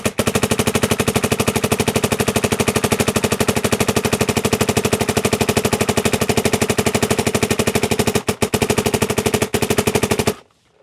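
A Dye MXR paintball gun fires in a loud, rapid, even stream of shots close by, pausing briefly near the end before stopping.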